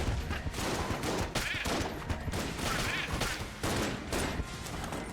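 Dense, rapid gunfire from the video game Enter the Gungeon bursts out in continuous overlapping volleys, loud and busy throughout the short stretch.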